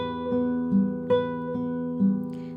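Spanish Romance played on guitar, plucked notes ringing over a sustained bass in a slow, even arpeggio pattern, clear and close with no talking.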